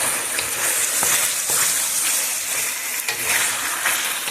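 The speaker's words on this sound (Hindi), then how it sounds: "सारी चीज़ों को अच्छी तरह से थोड़े से ऑयल में आप फ्राई कर लें" Chili chicken sizzling and frying in a little oil in a pan, a steady loud crackle with a few sharper pops from stirring, with no voices over it.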